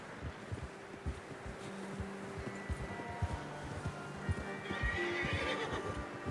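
Horse neighs in a Western open-world game, its whinny rising over nearby clip-clopping hooves and a low ambient hum, a second bright whinny near the end.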